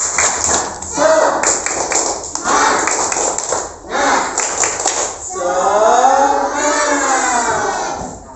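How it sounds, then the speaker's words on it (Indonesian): A class of children claps together in rhythm, dense bursts of near clapping in patterned groups across the first half, followed by a sustained chorus of young voices chanting. "mari kita tepuk semangat dulu ya. Tepuk semangat."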